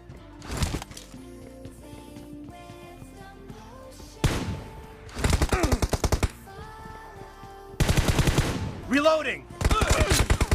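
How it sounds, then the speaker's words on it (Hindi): Gunfire in a team deathmatch video game, several loud bursts of rapid automatic shots separated by quieter stretches with music and game sounds in between. "आपने वहाँ फायरिंग पहले शुरू कर देनी है, इसे प्री फायर कहते हैं"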